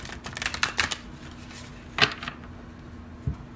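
Tarot cards, a Moonology deck and the Cathar Tarot, are shuffled in quick close riffles, then a few softer taps and slaps as the cards settle, with no voice over them.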